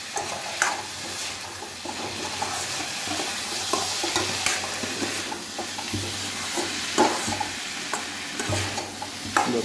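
Taro is stir-fried in a pan, with a continuous sizzle broken by repeated scraping and clacking strokes of a spatula at an uneven rhythm, close and fairly loud, without talking.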